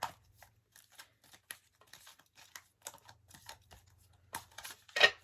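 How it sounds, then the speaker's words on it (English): Soft, quick riffling and tapping of tarot cards being shuffled, a steady patter of light clicks with a low hum beneath, ending in a slightly louder flutter. "Let me shuffle it a little bit more."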